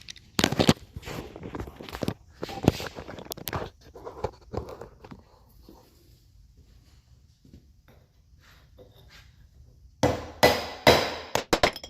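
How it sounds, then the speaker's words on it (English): Sharp metal hammer strikes as a part is tapped into a Bendpak two-post car lift, coming in irregular bursts of loud close blows with quieter gaps between them, then a fast final run of heavy hits. "that was a little more hammering than I wanted to do"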